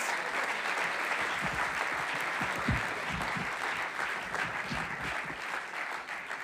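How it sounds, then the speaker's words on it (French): An audience at a regional sports merit awards ceremony claps continuously for several seconds, a dense, even wash of applause from a sizeable crowd that fades slightly toward the end, with no talking over it. "Allez, on l'applaudit."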